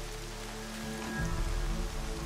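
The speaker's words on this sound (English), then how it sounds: "It's just raining around the spot." Steady rain patters on surfaces in the Horizon Zero Dawn video game, a continuous broadband hiss with a low rumble that swells slightly partway through, with no one talking.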